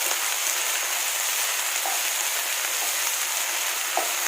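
Ivy gourd fries with salt in a pan, giving a dense, even sizzle that holds steady and close throughout, with a faint stir or two and no voices.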